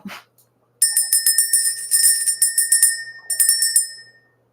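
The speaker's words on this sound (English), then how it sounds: "let's ring the bell" A small bell rings rapidly in bright, shimmering bursts, close and loud, stopping briefly before a final flurry of rings.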